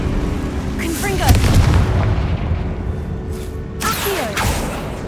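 Two booming blasts from the Confringo fire spell in the video game Hogwarts Legacy, loud and close, each followed by crackling debris, with a voice speaking.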